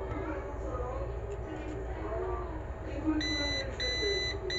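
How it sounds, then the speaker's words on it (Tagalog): A continuity tester buzzer beeps a few times in quick bursts near the end while testing an electric kettle, following a stretch of low background noise and muffled handling. "Dapat mag-buzzer siya kung buo siya."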